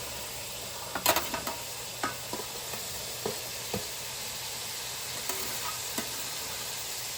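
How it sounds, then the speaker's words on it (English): Chopped broccoli goes into a pan of rice, setting off a steady sizzle broken by a string of sharp scrapes and clinks as it is stirred, with no voices. "I'm going to add the chopped broccoli in it."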